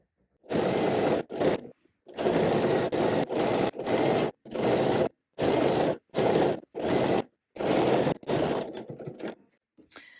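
A sewing machine topstitches a dress hem in loud, steady bursts of rapid stitching, stopping and starting repeatedly with brief silent pauses between runs.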